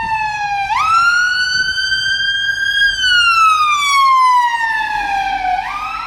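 Ambulance siren on a city street, very loud and close, wailing in slow rising and falling sweeps that climb again near the end, with street traffic rumbling faintly underneath.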